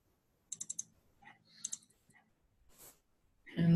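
Computer mouse clicks nearby: a quick run of sharp clicks, then a second short burst a moment later, with scattered faint ticks in between and a louder rustling thump at the end.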